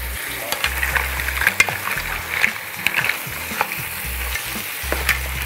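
Crustacean heads and onion being stirred in a hot pot over maximum heat, a steady sizzle and frying hiss with repeated scraping stir strokes, close and alone with no talk.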